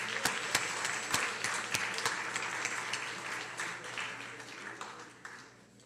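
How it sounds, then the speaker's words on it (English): Applause for the class of 1985 at a school reunion, a dense wash of many hands clapping with a few sharper nearby claps standing out, steady then slowly thinning toward the end. "please give it a huge round of applause for the class of 1985"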